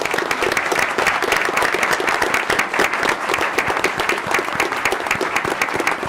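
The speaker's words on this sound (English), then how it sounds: "if you would please stand for a big round of applause" Parents at a school board meeting give a big round of applause as a student stands to be recognized: dense, steady clapping from a crowd that fills the room and holds even for the whole stretch.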